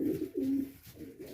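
Racing pigeons cooing close by, a few soft, low, throaty coos in a steady rolling rhythm with no talk.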